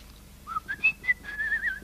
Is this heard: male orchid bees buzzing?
no